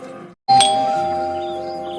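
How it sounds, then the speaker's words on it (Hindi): A single two-tone doorbell chime rings out clearly, its tone lingering and slowly fading. "दरवाजे की घंटी बज रही है"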